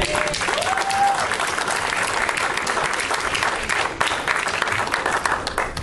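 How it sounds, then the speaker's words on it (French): A church congregation at an Easter youth service applauds the youth worship group with loud, dense, continuous clapping lasting several seconds, close and steady with a faint crowd murmur. "Je pense qu'on peut les applaudir encore une fois."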